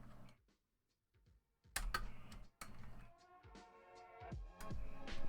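Typing on an Anne Pro 2 mechanical keyboard fitted with Gateron Blue switches: a short pause with a few taps, then dense, crisp clicky keystrokes in quick irregular bursts, close and clear with no talk.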